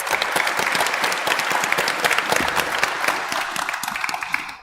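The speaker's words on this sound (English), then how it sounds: "Give them a round of applause for being here." An audience at a Hamilton West by-election candidates' debate claps for several seconds, a dense, close burst of applause that holds steady and then tapers off.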